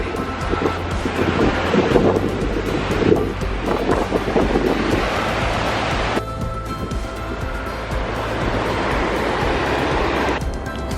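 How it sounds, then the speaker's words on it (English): Glacier meltwater from a waterfall sprays all around in cold air, a loud, steady rushing roar with gusty wind buffeting the microphone and no voices. "It's glacier water and it's spraying all over."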